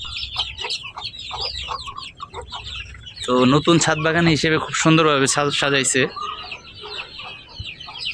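High peeping of chicks and low clucks from a hen on a rooftop garden continue throughout, with someone talking over the middle of it.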